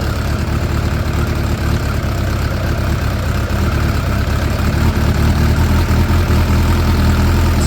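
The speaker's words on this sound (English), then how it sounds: "So you see it idles perfectly at about 1200 plus minus 50." A 2006 Suzuki GSX 600F Katana motorcycle with carburetor problems, idling at about 1200 rpm; a close, loud, steady engine rumble that holds even and unbroken throughout.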